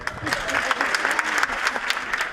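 A room audience claps in a dense, steady patter of applause, fairly close, with a voice heard over it.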